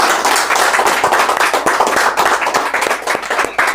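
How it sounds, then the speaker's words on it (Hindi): An audience at an indoor training meeting claps for a presenter, giving a loud, dense burst of hand claps that holds steady for nearly four seconds with no voices over it. "एक बार रेखा मैम के लिए जोरदार ताली होनी चाहिए।"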